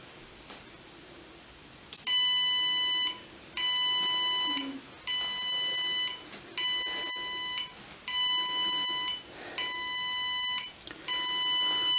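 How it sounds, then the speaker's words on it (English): A Raspberry Pi intruder alarm buzzer beeps in a steady repeating pattern of long, loud tones with short gaps, sounding close by over a quiet background. "turns on the light and buzzer makes beep sound"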